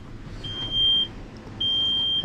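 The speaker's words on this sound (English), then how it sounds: "it's gonna beep at us and annoy the shit out of us" An ANCEL HD110 heavy truck code reader gives two long, steady high-pitched beeps, the second starting soon after the first ends, sounding close and loud over a low background rumble when it is hooked up with the key on.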